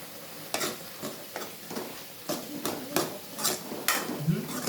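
Broad bean curry with chili powder being stirred in a pan, a spoon scraping and clinking against the metal in uneven strokes over a soft background hiss.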